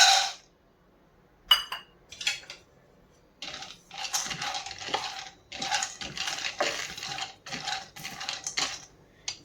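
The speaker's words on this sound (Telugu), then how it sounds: "నేను ఒక్క కప్పు పల్లీలు తీసుకుంటున్నాను వీటిని సిమ్లో పెట్టి బాగా ఫ్రై చేసుకోవాలి" A cup of raw peanuts being fried on low heat in a pan, rattling and clinking steadily as they are stirred and tossed against the metal, close and fairly loud with short gaps between bursts.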